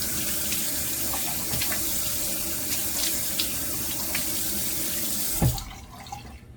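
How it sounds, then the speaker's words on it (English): A bathroom tap runs steadily, water splashing into a sink as shave residue and alum are rinsed off a face, with a few small splashes before the flow cuts off near the end. "let's get the alum rinsed off"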